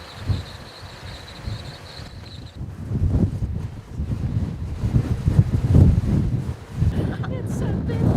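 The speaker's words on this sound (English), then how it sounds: "It's so windy" Strong wind buffeting the microphone in rough, low gusts that build and ease, loud and constant throughout, on a hilly road in Iceland.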